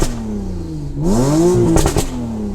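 A Porsche GTS fitted with Soul Performance exhaust manifolds and cat bypass pipes gives one loud, close rev that climbs and falls back, with sharp crackles and pops at the top of the rev.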